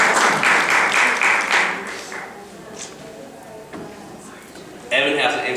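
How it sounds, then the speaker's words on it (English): Audience at a clipper haircutting class claps for a model, a burst of rhythmic clapping in the first two seconds that fades, then talk, with clapping swelling again near the end. "Can we clap for Evan?"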